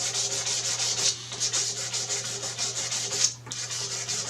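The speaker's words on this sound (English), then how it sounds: "I got some 400 grit sandpaper. And then you just want to go over them to take out the little scratches and imperfections" Guitar frets being sanded with 400 grit sandpaper, a steady rhythmic rasping scrub of repeated back-and-forth strokes with a brief pause near the end, close and fairly loud over a low hum.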